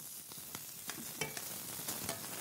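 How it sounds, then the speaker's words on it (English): Onions sizzle steadily in a hot pan, a quiet continuous crackle with occasional louder pops and stirring scrapes. "So it's just frying it up, getting a little bit of color."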